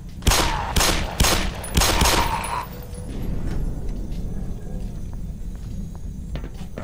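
Gunfire in the video game Black Mesa, a handful of sharp close shots in quick succession followed by a lingering low rumble of game ambience.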